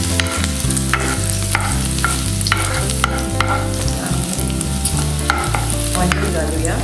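Crushed garlic frying in a pan, a continuous close sizzle with repeated scraping strokes of stirring, loud and steady, with no talking.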